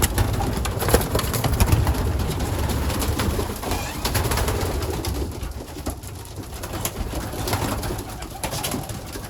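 A dense crowd of young and old pigeons coos and flutters continuously up close while being fed, with wingbeats and shuffling mixed through the steady murmur.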